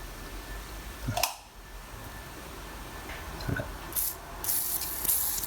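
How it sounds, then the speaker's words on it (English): Inline skate bearings from Riedell 120 skates being washed with a spray: short hissing bursts with quiet rubbing and clicking between them, fairly close and faint, with no talk. "I'm going to go and just quickly wash these. So look at the bearings."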